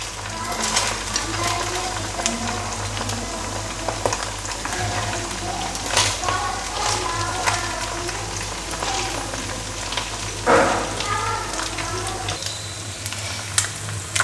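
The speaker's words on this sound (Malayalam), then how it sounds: "പിന്നെ നമുക്ക് സാധാരണയായിട്ടങ്ങ് ഫ്രൈ ചെയ്തങ്ങ് എടുക്കാനുള്ളതേ ഉള്ളൂ." Spicy cornflake-coated anchovies fry in oil with a loud, steady sizzle and bubbling, close and continuous, with occasional clinks and stirring noises.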